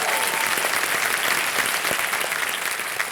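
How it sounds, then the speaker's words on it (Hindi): A studio audience on the Kaun Banega Crorepati quiz show claps loudly and continuously to welcome two contestants, an even, sustained wash of applause with no voices over it. "जोरदार तालियां स्वागत में।"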